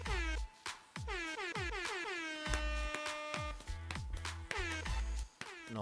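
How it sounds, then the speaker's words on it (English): Loud blaring air horns blast repeatedly in a rapid rhythmic pattern, pitch sliding on each blast, filling the whole clip like a music track. "is this entire track air horns?"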